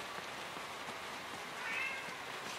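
A pet cat meows a few times against a steady hiss of rain or background noise, fairly faint and not close.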